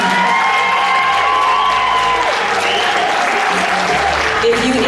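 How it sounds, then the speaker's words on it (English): Loud applause and cheering from the crowd at a fashion show, dense continuous clapping mixed with whoops and shouts, with voices and background music carrying under it throughout. "Now, just give them a big round of applause one more time."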